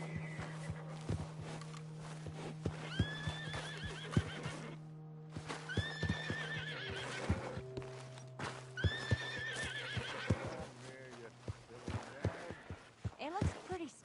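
A spooked white horse in the Red Dead Redemption 2 game whinnies in repeated shrill bursts over clopping hooves, with a low steady drone underneath and brief gaps between calls.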